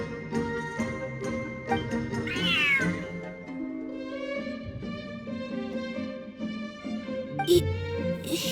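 A cat in Genshin Impact meows several times, close and clear, over soft in-game music with light tinkling chimes.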